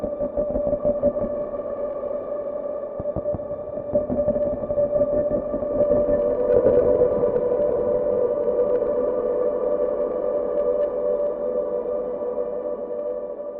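LEKKO sampled instrument holding a dense, sustained textured drone while the mod wheel is pushed up, layers swelling in with widening stereo and irregular crackling, glitchy details, moderately loud and continuous.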